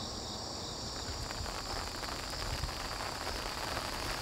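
Steady rain pours down at a fishing spot, a dense even hiss of drops on surfaces with no breaks, fairly close and constant throughout, with no talking.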